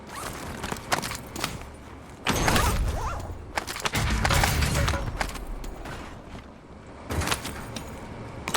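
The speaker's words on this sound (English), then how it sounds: "Inserting armor." An armor plate being inserted in the video game Call of Duty Warzone: a run of rustling, zipper-like crunches and bursts, loud and close, over a constant game background with no talking.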